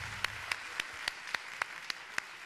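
Audience applause for a singer at a radio station's promotional evening, heard as a sparse, steady patter of hand claps at a fairly even rhythm, moderately distant.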